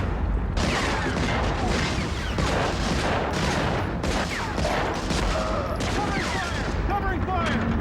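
Dense gunfire in a PlayStation 2 war video game, with rapid overlapping bursts and shots crackling continuously while soldiers shout over the battle.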